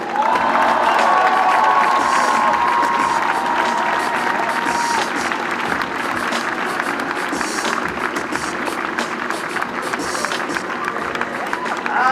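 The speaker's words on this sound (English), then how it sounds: "Give a rousing round of applause to Massachusetts' brand new, newly elected governor, Maura Healey." A large crowd applauds and cheers for newly elected Massachusetts Governor Maura Healey at an outdoor unveiling event, a loud, sustained wash of clapping and whoops that runs steadily without a break.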